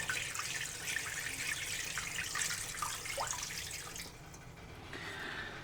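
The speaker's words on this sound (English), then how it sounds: "Put the chicken wings into a pot and cover them with water." Water runs from a tap into a pot of chicken wings, a steady close splashing stream that thins and quiets near the end.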